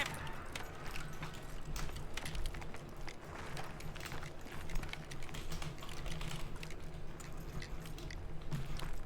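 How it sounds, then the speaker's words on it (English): Mouse and keyboard clicking steadily during a Call of Duty zombies (Kino) gaming session, dense rapid keystrokes and clicks running throughout at moderate level over a constant low hum. "Y'all probably could hear my mouse and keyboard, right?"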